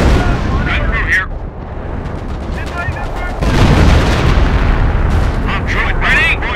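Artillery in the video game Company of Heroes booms in heavy, continuous rolling blasts and gunfire, with a louder burst of explosions midway and voices faintly talking under the barrage.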